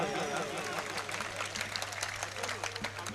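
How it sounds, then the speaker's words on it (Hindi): Audience at an outdoor mushaira poetry gathering in Jhang clapping steadily, a dense continuous patter of many hands over a low steady hum, with voices murmuring underneath. "आपके साथ साथ तालियां भी हो जाएं"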